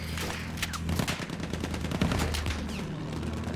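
Rapid gunfire bursts from the Battlefield 1 video game on the Sinai Desert map, a dense, continuous crackle of shots and distant explosions layered over a steady low rumble, with no speech.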